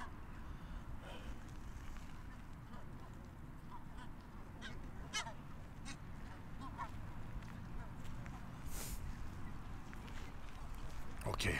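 Water birds honking and quacking intermittently at a moderate distance, with outdoor background noise throughout.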